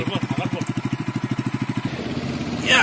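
A motorcycle engine revs in a fast, steady pulsing rhythm, close and loud, for about two seconds, then drops into a rougher, quieter rumble as a stunt rider performs.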